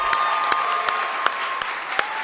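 An audience applauds honorees at an awards breakfast, steady clapping filling the room with a few sharper claps standing out, no voices on top.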